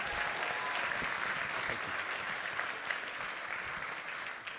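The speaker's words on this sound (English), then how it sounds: "Let's get one more round of applause for Ranveer Chandra." Audience applause at the 2019 National FFA Convention for Microsoft's Ranveer Chandra after his agriculture tech talk; a sustained, even wash of many clapping hands in a large room, fading slightly at the end.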